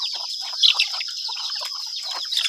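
Chickens cluck and murmur close by, a busy scatter of short calls over a steady high hiss, with one louder squawk early on.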